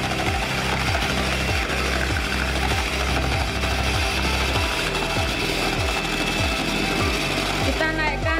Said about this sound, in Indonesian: Putih telur kita masukkan ke dalam kom adonan, kemudian kita mixer dengan kecepatan rendah dulu.